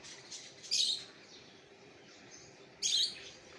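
Small birds and honeybirds feeding on insects after rain give two short, bright bursts of high chirping, the first near the start and the second toward the end, against a quiet outdoor background.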